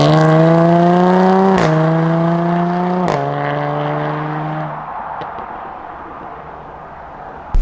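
A Jaguar F-Type V6S engine drones loud and close, its pitch stepping down at two quick upshifts, each marked by a sharp crack, then fading toward a low hum with a final pop.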